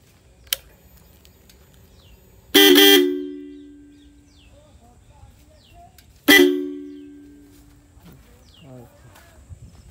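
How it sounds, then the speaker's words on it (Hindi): A refitted motorcycle horn gives two loud, near, buzzy honks about four seconds apart, each about a second long, with faint talk and small clicks between them. "थोड़ी एक बार आवाज भी सुना दिना जी"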